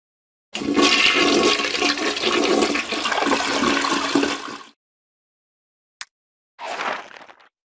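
A toilet flushes loudly with a rushing whoosh of water for about four seconds, then a brief click and a short trailing gurgle of refilling.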